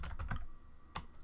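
Computer keyboard keys tapped while typing C code for a Game Boy game: a quick cluster of clicks, a pause, then another keystroke, close and fairly quiet.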